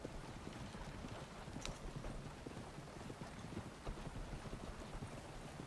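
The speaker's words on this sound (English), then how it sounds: "I know it's just two horses, but it sounds like more. Probably because I've got this little milk wagon." Hooves of two horses pulling a small milk wagon in Red Dead Redemption 2 roleplay, a fast, busy clip-clop that seems like more than two animals, fairly faint under steady wind and rumble.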